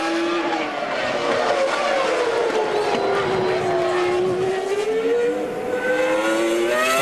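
Jenson Button's Formula 1 car out on track in qualifying at the 2000 Canadian Grand Prix, its loud high-pitched engine whine sustained and shifting in pitch across the run, with no talk over it.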